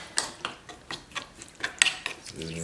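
Bumbu hijau seasoning is mixed into a whole fish for Sumbawa-style grilled sirasang, producing quick rhythmic clinks and scrapes of utensil on dish, several per second and close by.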